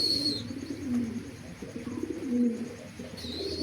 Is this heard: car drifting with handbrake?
no